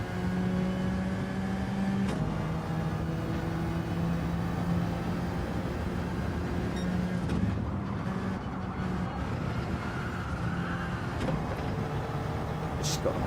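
A race car engine at Brands Hatch drones steadily and climbs through revs in a sustained whine, with a brief shift in tone midway and a voice faintly audible beneath it.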